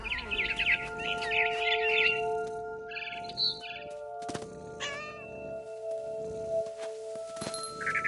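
Barn swallow chirping in the game What Remains of Edith Finch, bursts of quick bright twittering calls near the start, then scattered shorter chirps among soft thumps and a faint sustained tone.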